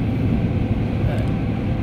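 A car drives along with a steady, loud low road and engine rumble filling the short stretch, with no distinct events and no talking.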